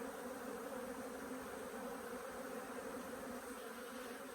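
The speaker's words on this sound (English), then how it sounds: "So I shake these bees off into here" Honey bees shaken off a hive frame into a box hum in a dense, steady swarm buzz, fairly quiet and continuous with no voices.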